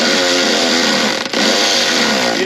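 A 1994-2004 Ford Mustang GT with a 4.6 V8 and performance upgrades roars loud and close in a dense, continuous engine drone, with one brief dip in the middle and no talk.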